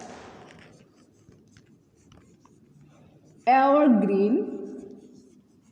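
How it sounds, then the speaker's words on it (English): Writing a term by hand during a classroom lesson: faint, steady scratchy strokes run for about three seconds, then a teacher's voice speaks a single word. "Let me write the term here."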